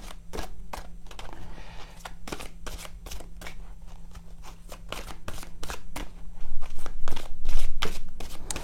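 A deck of tarot cards is cut and shuffled by hand, producing a long run of crisp, rapid card riffles and slaps that come close and fairly loud and grow louder toward the end, with no talking.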